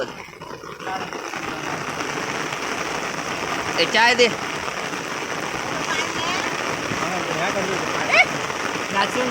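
Steady monsoon rain falls on a village while ragi is being planted. The hiss is continuous and fairly loud, and people talk in the foreground.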